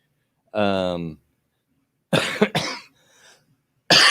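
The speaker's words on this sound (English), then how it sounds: "That cough come up from nowhere." A single loud, close cough with a harsh voiced onset, followed a moment later by a rougher burst of throat clearing, then silence before another sound begins.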